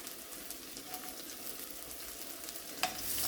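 Chopped garlic and chili fry in oil left over from frying prawns, producing a soft, even crackle and hiss that holds steady with one small knock near the end.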